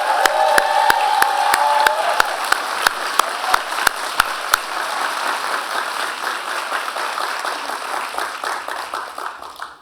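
A convocation audience applauds and cheers, with a few sharp, isolated claps standing out over the first half before the crowd noise slowly fades; a few whoops rise above the clapping.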